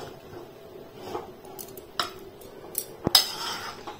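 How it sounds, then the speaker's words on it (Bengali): Vegetable upma stirred in a pan with a metal spoon, giving sparse scraping clinks and a few sharper knocks against the pan, fairly close and quiet with no talk. "এইরকম ভাবে এটাকে নাড়িয়ে যেতে হবে, না হলে নিচে লেগে যাওয়ার চান্স আছে।"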